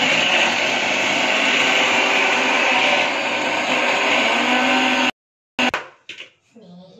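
A kitchen mixer grinder grinds dry ingredients with no water, a loud, steady, close whirring drone for about five seconds before it cuts off, followed by brief clattering.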